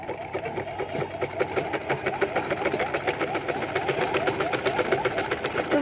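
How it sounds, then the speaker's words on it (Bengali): Sewing machine stitching steadily in a fast, even mechanical rattle that runs unbroken throughout, close and fairly loud over a faint motor hum. "তো আমি সেলাই করে দেখাচ্ছি আপনাদের।"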